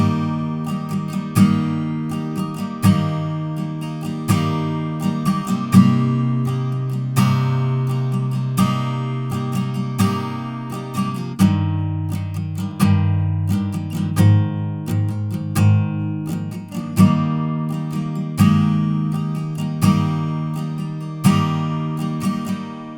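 An acoustic guitar strums the verse chord progression of a song in a steady rhythm, each strum ringing out before the next, with changes every few bars and no voices.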